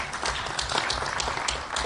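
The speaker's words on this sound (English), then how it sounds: "So I think you should give a round of applause on that." An audience at a bridge championship Board of Governors meeting breaks into applause, a dense crowd of clapping that is close, full and continuous for the whole brief moment.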